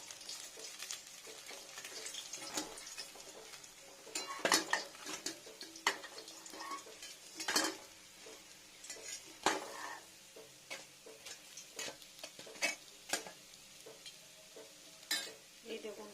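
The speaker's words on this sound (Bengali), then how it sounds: "মাছটা এখনো হচ্ছে তুলে নিই" Pieces of rohu fish fried in a pan on a gas stove keep sizzling softly after the flame is turned off, with scattered sharp clinks and scrapes of a utensil lifting them out.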